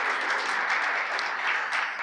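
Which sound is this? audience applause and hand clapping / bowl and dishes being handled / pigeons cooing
audience applause and hand clapping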